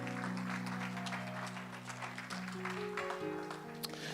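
A church congregation claps and acclaims the Lord, a faint, steady patter of applause over sustained music tones.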